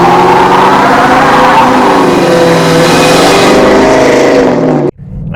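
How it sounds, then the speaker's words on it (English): A 1999 Ford Mustang GT V8 driving with a loud, steady engine note that rises under acceleration, heard close from inside the car, then cuts off abruptly near the end. "All right, driving the 1999 Mustang GT."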